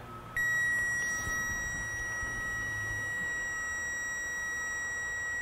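A circuit tester probe touched to a main power wire gives a loud, steady high-pitched electronic beep that starts abruptly and holds continuously to the end.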